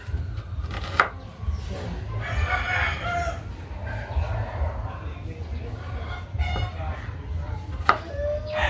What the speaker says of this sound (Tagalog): pinuhin lang talaga natin yung sibuyas para mas maamoy yung natin